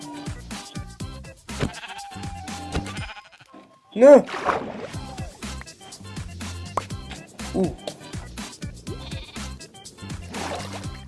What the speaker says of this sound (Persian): یالله گوسفند